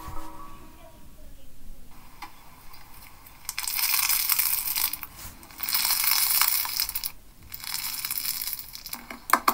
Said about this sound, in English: It's like a crunchy slime.